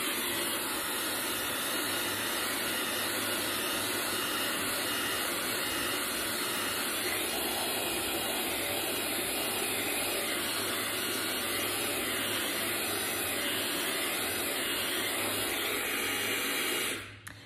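A hair dryer blows steadily and close by for the whole stretch while a brush works through the roots and body of the hair during a glossy blow-dry. It holds a continuous even whoosh and cuts off abruptly at the end, with no talking.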